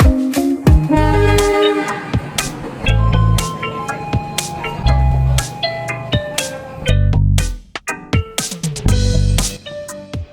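A train rumbles nearby while its horn sounds in several loud, repeated blasts, with clanking and rattling between them.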